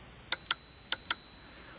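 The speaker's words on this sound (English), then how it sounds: "There's also a bell, which is nice and loud." An electric scooter's handlebar bell rings four times in two quick double dings, bright and loud up close, with a clear metallic tone that fades out afterward.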